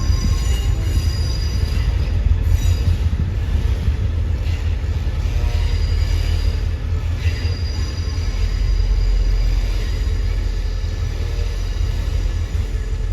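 A southern line train running on an elevated track out of Krung Thep Aphiwat station, a loud, constant rumble of wheels on rails with a high metallic squeal sustained over the whole stretch, no voices.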